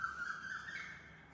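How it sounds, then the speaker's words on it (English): A single bird gives one loud, drawn-out whistling call close by, rising slightly in pitch over about a second against a quiet room. "the bird is quite loud"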